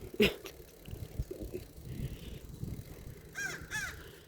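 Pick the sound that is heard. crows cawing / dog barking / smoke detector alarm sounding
crows cawing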